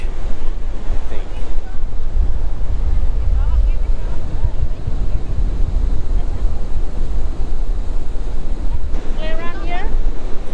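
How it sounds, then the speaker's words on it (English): Ocean waves wash continuously on the beach at Pacitan, a loud, broad roar with wind buffeting the microphone throughout, and brief faint chirping sounds near the end. "On the beach once again, different part of the beach."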